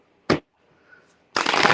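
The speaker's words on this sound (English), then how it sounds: "Let me just get a couple shuffles in real quick" A deck of tarot cards is shuffled in two quick bursts, one brief riffle followed after a pause by a longer, louder crisp shuffle, close by with no talking.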